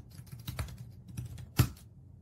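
Keys clatter on a computer keyboard as a new password is typed, a quick uneven run of soft clicks ending with one louder keystroke, close and without speech.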